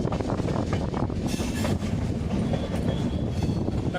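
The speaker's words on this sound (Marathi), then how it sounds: "आपली रेल्वे निघालेली आहे स्टेशन बी सोडलेलं" A train rumbles along the rails with steady clattering wheels and a constant heavy roar, heard from on board.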